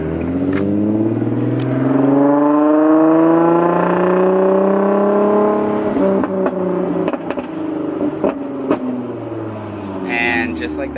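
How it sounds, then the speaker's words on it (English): An Infiniti G35 or Nissan 350Z in manual mode, first gear, is gassed and then let off, its engine note rising and falling in long sweeping revs, loud and close, with a few sharp pops near the end. "what I'm doing is gassing the car and then letting off the gas and then slowly like kind of feathering the gas a little bit"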